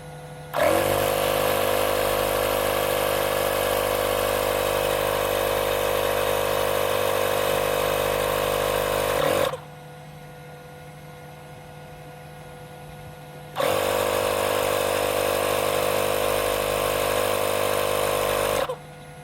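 A 12 V mini compressor pumps up a tyre with a loud, steady droning buzz close by. It runs for about nine seconds, pauses into near quiet, then starts again and runs on.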